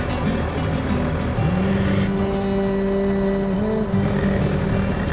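A car is driven along with a constant loud engine drone and road rumble, its engine note rising and holding as it accelerates midway, close and steady throughout.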